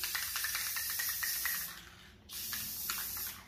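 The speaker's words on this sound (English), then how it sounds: "I'm going to actually give that a little quick little spray down so that it's easier to clean" Quick hissing spray bursts of sealant coat a homemade wooden breadbox and its cap, several short puffs in a row, a brief pause, then another longer stretch of spraying close by.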